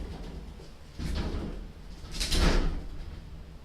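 A glass shower door sliding shut in a bathroom during cleaning, with a couple of rolling, scraping swishes and a louder thump-like rush near the middle, close and alone without talk.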